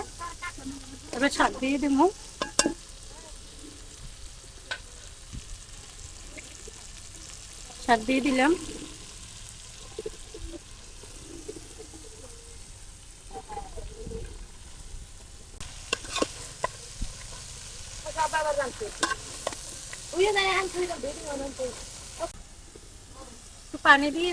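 Shrimp seasoned with turmeric, chili powder and salt frying and being stirred in a pan, a steady soft sizzle with scraping stir strokes, while voices talk at intervals over it.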